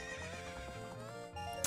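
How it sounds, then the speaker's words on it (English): Epona, the horse in the video game Zelda: Ocarina of Time, lets out one continuous whinny in the game's audio, faint and alone with no speech. "So yeah, we're next to a horse."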